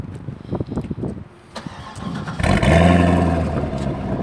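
A 2005 C6 Lingenfelter Corvette with Corsa exhaust cranks and fires up, settling into a loud, throaty idle close by after a few seconds of quieter clatter.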